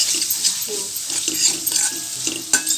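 Ginger garlic paste is stirred and fried in a pan for a potato bhaji, with a steady close sizzle broken by the scrape and clink of a spoon moving through the paste.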